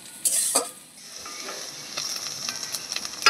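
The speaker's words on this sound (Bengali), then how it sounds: "এই মাছের ডিমটা দিয়ে দেবো। একটু ভাজা ভাজা করে নিয়েছি।" Fish roe frying in a pan gives a close, steady sizzle and hiss with scraping stirs and light knocks of a utensil, brief and without talk.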